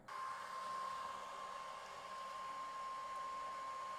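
An xTool laser engraver runs during lasering, giving a steady, quiet fan-like whir with a thin constant whine and no change in rhythm.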